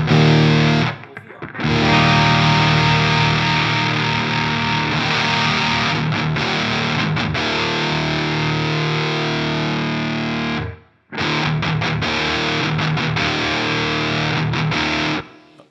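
Heavy fuzz from a KMA Machines Guardian of the Wurm pedal with its blend knob mixing in a little clean signal: thick, loud, saturated guitar chords that ring out, break off briefly twice, then resume.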